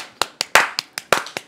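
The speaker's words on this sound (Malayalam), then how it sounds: "അത് നമ്മുടെ ഗെയിമറിന് നല്ലൊരു കൈയടി" A handful of separate, crisp claps, about eight at an uneven rhythm, close and fairly quiet, from a small group applauding a game player during a casual interview.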